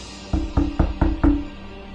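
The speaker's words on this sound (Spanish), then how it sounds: "Él tocaba aún más la puerta." Five firm knocks on a door in a quick, steady series, close and fairly loud over a faint background hiss.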